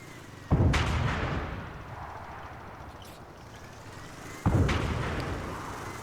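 Mortar fire in the video game Antistasi, heard as two heavy booming blasts about four seconds apart, each one loud with a long rumbling tail, and no talking in between.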